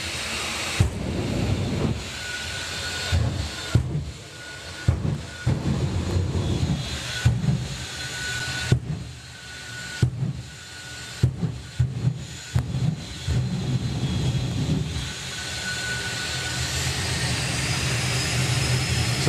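Jet dragster turbine spooling up at a Doorslammers drag race meeting, a loud sustained engine roar and hiss rising steadily in pitch, broken by repeated sharp pops and surges over about twenty seconds.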